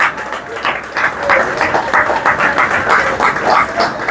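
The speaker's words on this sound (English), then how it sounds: "Clap them loudly." Audience at an outdoor ceremony in Eastern St. Thomas clapping loudly for cassava farmers receiving leases, a steady mixed patter of many hands with voices murmuring underneath.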